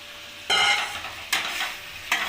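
Fried potato and kohlrabi stirred into a sizzling spice masala in a pan, with three distinct bursts of scraping and frying as the ingredients are tossed, no voices.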